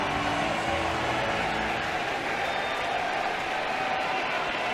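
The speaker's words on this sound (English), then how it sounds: "the crowd is buzzing" Steady crowd buzz fills a college baseball stadium during an LSU vs Missouri game, a dense, continuous murmur of fans with scattered applause-like texture and no pauses, heard throughout at an even, moderate level.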